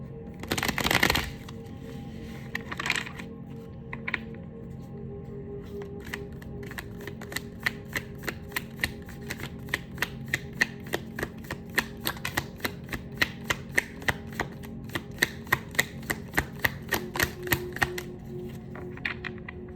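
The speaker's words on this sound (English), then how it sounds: "I'm gonna do one more shuffle and then we'll begin." Tarot cards being shuffled, a quick riffle at first followed by a long series of steady, crisp snapping flicks, close and fairly quiet.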